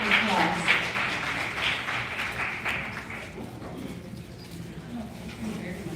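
An audience at a Black History community event claps as a mayor is welcomed to the podium, the applause strongest at first and then thinning into softer, scattered clapping.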